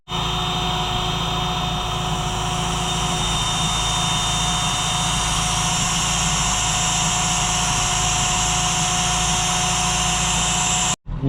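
A parked car's engine runs to support a pump inflating a small boat, a steady, loud drone without a break, with a constant high whine above it, then cuts off abruptly at the end.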